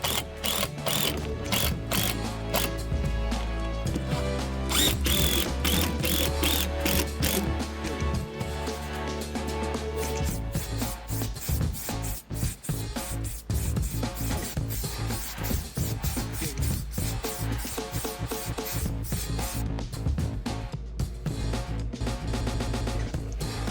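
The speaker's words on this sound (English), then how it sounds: "I just got some metal screws, drilled some pilot holes, and just sent them" Metal screws being driven through pilot holes to fix boards down for a DIY roof tent. A steady, close mechanical whirring and ratcheting runs continuously for the whole stretch.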